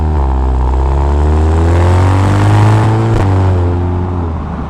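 A 2017 Audi TTS 2.0 TFSI Black Edition with S tronic gearbox and quattro drive accelerating hard on a road test drive, a loud, close, steady engine drone rising in pitch and then easing slightly, with no talking.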